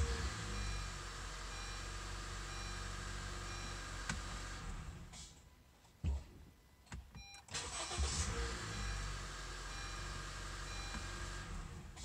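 A Honda car is started with its push button: a steady hum with a beeping tone, a brief cranking catch, and then the engine settling into a steady idle; no voices.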